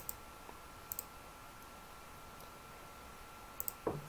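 Computer mouse clicks while trimming lines in AutoCAD: a few faint, sparse clicks, some in quick pairs, over a low steady hiss, with a slightly louder click near the end.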